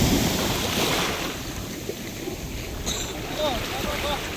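Ocean waves break at the Baler, Aurora surfing area as a continuous, close rush of surf with wind buffeting the microphone, while people talk and call out over it.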